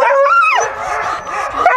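A harnessed sled dog at a training run yelps and howls eagerly, loud and close, in one rising whine that drops into a yip, with no talk.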